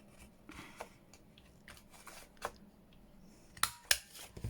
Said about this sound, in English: I think I'm going to have to cut the backs before I do the next bit